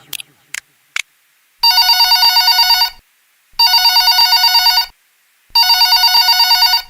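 A telephone rings in three long bursts of electronic trilling, loud and clear, separated by short silences, after a few brief clicks at the start.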